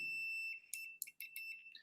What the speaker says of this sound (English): it'll make a beeping sound when you have continuity